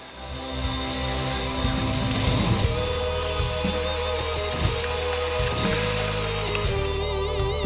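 Garlic sizzles and fries in oil inside a pot over a campfire, a steady close crackle with bursts of stirring and scraping throughout.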